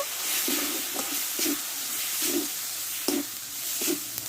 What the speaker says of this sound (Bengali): আর ঝালের জন্য কিছুটা আমি লঙ্কা গুঁড়ো দিয়ে দেবো আর কয়েকটা আমি চিনির দানা দেবো দিয়ে মশলাটা একটু ভালো করে কষে নেব